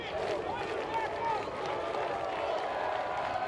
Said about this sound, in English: Milford crowd pumped up